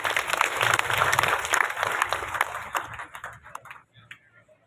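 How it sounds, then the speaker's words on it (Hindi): Loud applause from a crowd at a Kargil Vijay Diwas ceremony in Srinagar Garhwal, dense clapping that fades out toward the end. "जोरदार तालियां एक बार।"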